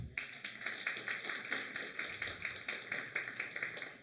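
A church congregation claps together in a steady, rhythmic beat during a sermon, the hand claps sounding moderately close and fairly quiet, with no talk over them.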